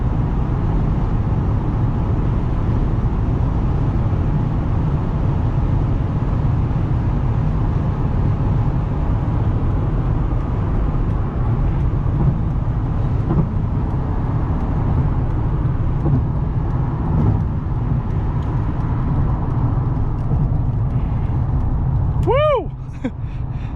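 A 2009 Honda Pilot Touring SUV with 144K miles cruising on the freeway at 80 mph, a steady loud low road and engine drone with tire rumble, heard from inside the cabin, with brief chirping tones near the end.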